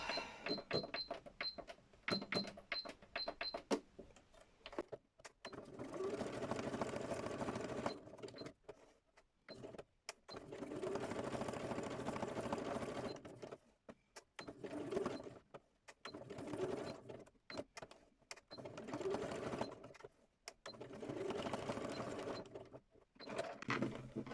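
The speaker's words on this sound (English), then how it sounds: "So I've just zigzagged around there." A sewing machine runs a zigzag stitch on a small fabric art card, in rapid mechanical whirring bursts with short pauses between runs. The clicks and ratcheting are close but fairly quiet.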